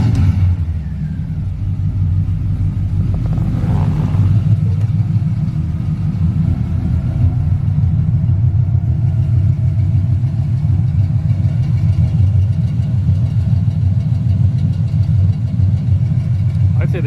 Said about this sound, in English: I put Flowmaster Super 10s on it, which are aggressive, but they're not obnoxiously loud.